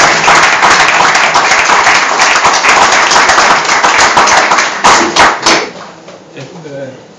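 An audience at a poetry reading in Gemonio breaks into loud, dense applause after a poem. Many hands clap steadily, then the clapping thins into a few scattered claps and fades near the end.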